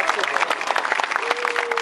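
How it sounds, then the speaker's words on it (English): Audience at a seal show at Adventure Aquarium gives a loud, close round of applause, with busy clapping, a few whistles and cheers layered over it. "I want you to give all of our volunteers, our seals, our trainers, a big round of applause"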